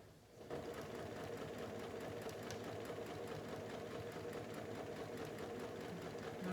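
Quilt pieces from a jelly roll race quilt run through a sewing machine in a steady, continuous whirring hum with a rapid rhythmic needle chatter, close and alone after a brief quiet start.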